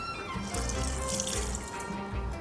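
A steady stream of water pours close by into a cooking pot of browned meat, continuous and splashing, with no talking.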